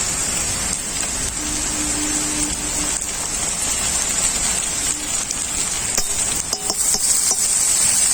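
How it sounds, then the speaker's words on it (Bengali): Steady hiss and crackle of onions frying in butter in a pan, with occasional light clinks of a utensil stirring near the end. "পেঁয়াজ খুব ভালোভাবে ভাজা হয়ে গেছে বাটারটা দিয়ে দেবো"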